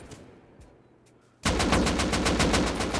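Full-auto AK rifle fire in the survival game Rust erupts after a quiet stretch, a loud, rapid, steady burst of close shots running to the end.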